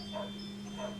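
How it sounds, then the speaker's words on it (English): Two short, muffled barks from indoor dogs reacting to a mail delivery, spaced about half a second apart over a steady low hum. "That's why the dogs are barking."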